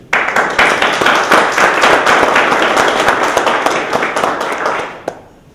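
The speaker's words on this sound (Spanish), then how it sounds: "vamos a mandarle un aplauso desde aquí a ver si nos oye" Loud, dense audience applause at a literary event in an athenaeum hall, offered for an absent poet who is ill, steady for about five seconds before tapering off quickly into near silence.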